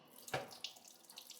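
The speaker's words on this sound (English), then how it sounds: "And I'm going to drain the water off." Water is drained off overnight-soaked black beans, giving a brief close splash followed by a few smaller sloshes and trickles at a sink.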